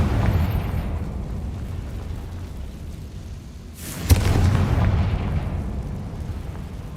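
A Confringo fire spell in the Hogwarts Legacy video game detonates with a single sharp, booming blast midway, following a rising whoosh, over a low rumbling game ambience.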